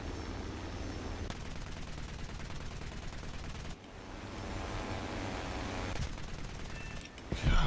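Steady rapid gunfire and engine roar from a WWII American dive bomber in an aircraft combat game, a dense continuous barrage lasting several seconds with a brief dip midway and a louder burst at the end.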